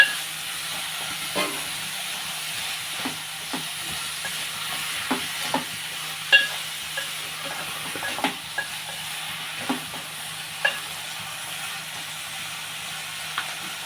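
Brinjal curry simmers in a covered pan, giving a steady soft hiss with faint sizzling and occasional small pops and knocks scattered through, moderately close and without any talk.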